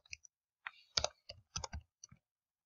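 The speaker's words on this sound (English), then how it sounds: "I am having some serious trouble typing here" Someone types on a computer keyboard in quick, uneven bursts of crisp, close clicks, with short pauses between keystrokes in an otherwise quiet room.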